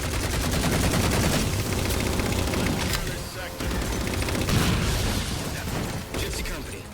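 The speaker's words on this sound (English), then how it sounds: "Target those phantoms for the railgun to shoot down." Dense Halo 4 battle noise with sustained gunfire bursts and booming shots, loud and continuous, a railgun among the weapons, layered over music and effects with little pause.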